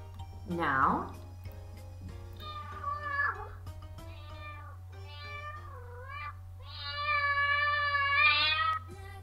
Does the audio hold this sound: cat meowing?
yes